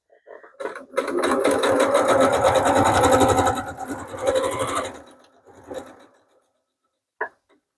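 A sewing machine stitches right along the edge of a piece of fabric, running steadily for about four seconds up close before easing off, followed by a couple of brief mechanical clicks.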